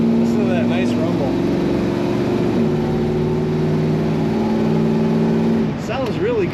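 Engine of a 1964 Ford F100 pickup rumbles steadily and loudly at idle, a low even drone throughout, with a voice speaking over it.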